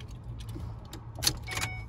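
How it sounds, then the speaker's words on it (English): Car keys jangle briefly inside a car, a couple of quick metallic jingles over a low idle hum. "Keys."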